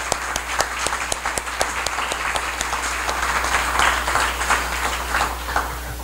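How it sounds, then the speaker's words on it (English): A forum audience applauds three presenters and their teams, steady crowd clapping with a few sharp, distinct claps standing out close by, over a constant low hum in the room. "let's just give a round of applause for all three presenters and the teams"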